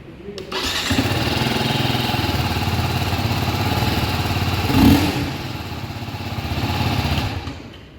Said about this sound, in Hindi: चलिए आपको एक बार इस बाइक का एग्जॉस्ट नोट भी चेक